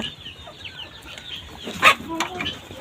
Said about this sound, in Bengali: এইখানে আমার দেশি মুরগি আছে তো এইখানে বারো পিস মতো মুরগি আছে